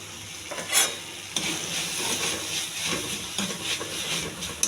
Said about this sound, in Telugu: వాటర్ పోయొద్దు, వాటర్ లేకుండానే వేగించాలి